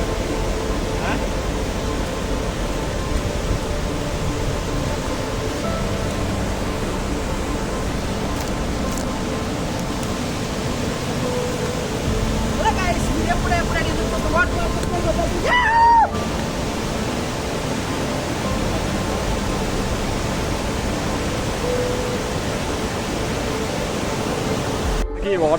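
The Pittala Borra waterfall gives off a steady, broad roar of rushing water that carries all the way through, with a few faint bits of activity near the middle.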